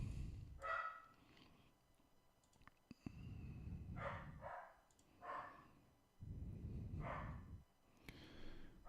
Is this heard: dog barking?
yes